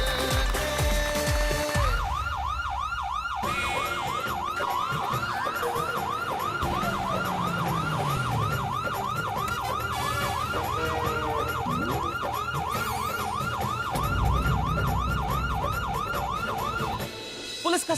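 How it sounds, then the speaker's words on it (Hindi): A police siren sounds loud and close in a Hindi television comedy scene, its rapid rising-and-falling wail repeating steadily for most of the stretch over busy background music and noise before cutting off near the end. "पुलिस का सायरन यानी कि टेंशन,"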